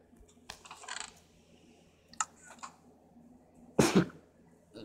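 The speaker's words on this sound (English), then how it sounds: "why am I sneezing so much?" A few short sharp bursts in Minecraft gameplay, the last and loudest a sudden explosive sneeze near the mic, with quieter throaty sounds before it.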